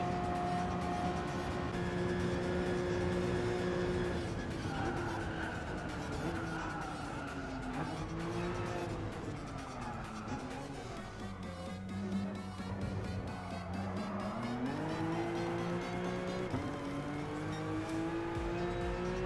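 A race car in Gran Turismo Sport, such as the BMW M3 E46 or RUF CTR3, revs loudly with rising and falling engine pitch through gear changes while tires squeal and skid, continuous and close throughout.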